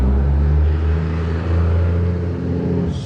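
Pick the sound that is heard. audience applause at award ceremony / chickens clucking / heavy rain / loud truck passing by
loud truck passing by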